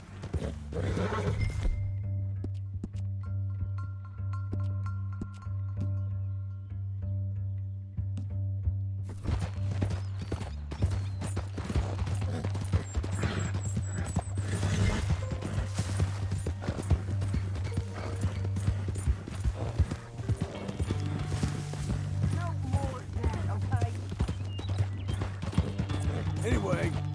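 Horse hooves clip-clop steadily in the video game Red Dead Redemption 2, a near, rhythmic trot running almost throughout, with gear jingling and occasional neighing, under intermittent character dialogue.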